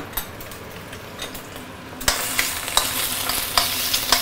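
An egg frying in a pan gives a soft sizzle that swells sharply halfway through, with scraping utensil clicks and taps against the pan recurring every half second or so.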